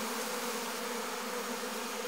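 Honeybees buzz densely and continuously at the entrance of a hive in a weak colony, a loud, close, unbroken hum with no pauses.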